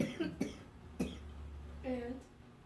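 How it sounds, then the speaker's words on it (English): A man coughs a few times in short, rough bursts close to the microphone, with a brief throat-clearing sound in between, mixed with breathy laughter. "I'd start laughing and start coughing when I think about it"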